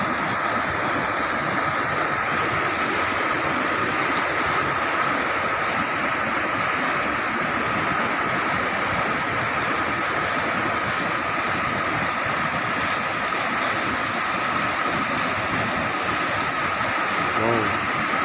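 Water rushing over a river dam in Blitar, a loud, constant, close roar of flowing water with no break.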